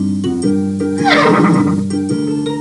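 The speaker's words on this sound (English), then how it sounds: "That's Pegasus, the winged horse." Pegasus, the winged horse in the 1997 Pink Panther: Hokus Pokus Pink video game, lets out one loud, close whinny that rises and wavers over about two seconds against a steady musical backdrop.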